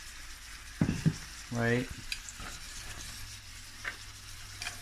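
Steak and vegetables frying in olive oil in a home pan, a steady soft sizzle with a few louder stirring clatters and scrapes, and a voice speaking briefly near the start.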